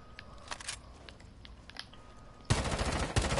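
Video game gunfire in a custom match: after quiet background noise, a dense, loud burst of rapid automatic shots erupts suddenly and continues to the end.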